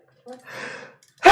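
During a tabletop roleplaying game session, a person draws a breathy, gasping inhale and then lets out a single loud, sharp sneeze right at the end, close up.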